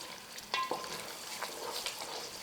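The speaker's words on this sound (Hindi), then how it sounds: "अब हम इसे फास्ट चलाएंगे ताकि हमारा दही फटे नहीं।" Yogurt, about 170 grams, is stirred quickly in a pan for mutton nargisi kofta curry, making faint, quiet scraping strokes over a soft background sizzle.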